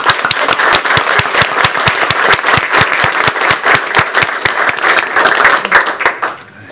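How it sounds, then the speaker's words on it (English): A room full of people at a school board meeting applauding steadily, dense even clapping close by that carries on for several seconds before stopping abruptly. "Let's give you another round of applause."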